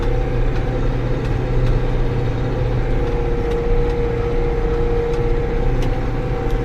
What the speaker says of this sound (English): But I guess you can still probably hear the tractor.